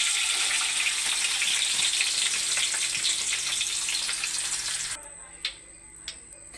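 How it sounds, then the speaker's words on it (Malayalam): Onions fry in hot oil for chicken biryani, a dense, steady sizzle with bubbling crackle that runs loud and continuous, then drops away near the end, leaving a few clinks and faint sizzling. "ബാക്കിയൂടെ നമുക്ക് വറുത്ത് പോരാം."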